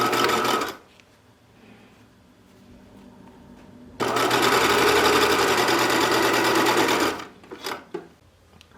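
A sewing machine stitches binding along the edge of a Grainger coat in two close, steady bursts, a short run at the start and a longer sustained run later, with quiet pauses in between.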